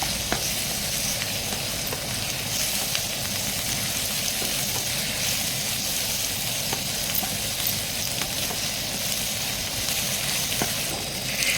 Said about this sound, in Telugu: అల్లం వెల్లుల్లి పేస్టు యాడ్ చేసి ఫ్రై చేసుకోవాలి